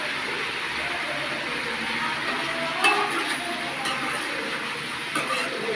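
Spices stirred into fried tomatoes in a pan, a soft steady sizzle with faint scraping and a couple of brief clinks, under a woman's quiet speech.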